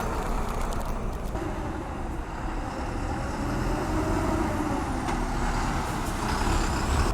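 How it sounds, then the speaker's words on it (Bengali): Heavy trucks rumbling past on a roadside near the Banglabandha zero point border crossing in Panchagarh, a loud, continuous low engine drone with occasional hiss and faint higher whines as vehicles go by close up. "এখানে ট্রাক যাচ্ছে একটু পরপর সাউন্ড"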